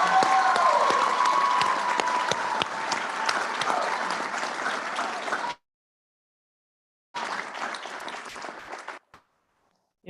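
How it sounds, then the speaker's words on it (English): Commencement audience breaking into a round of applause, a dense, loud crowd clapping that cuts off abruptly to silence, then returns briefly before stopping again. "I think we need another round of applause for Yanni,"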